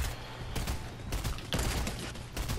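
Video game gunfire during a 360 no-scope trick shot, several sharp loud shot bursts spaced through the moment with mechanical clicks between them.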